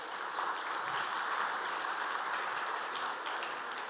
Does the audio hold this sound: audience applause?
yes